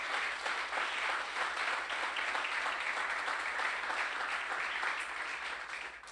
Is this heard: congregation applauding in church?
yes